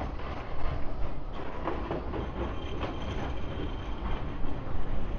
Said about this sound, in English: Trams there.